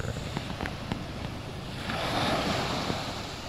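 Gentle surf at Pantai Kok beach in Langkawi, soft washing waves with a swell building midway, fairly faint and mixed with light wind noise.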